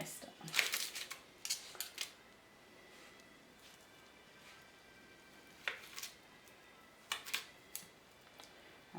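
A knife cuts through hot roasted butternut squash just out of a 200-degree oven, giving a few sharp clicks and scrapes in small bursts against a quiet kitchen background.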